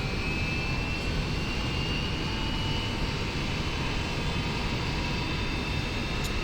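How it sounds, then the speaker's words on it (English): Engine number one of a Hawker 4000 jet spooling up in the X-Plane 11 simulator: a constant loud turbine rush with a thin rising whine, heard alone without pauses. "Now that engine's coming up."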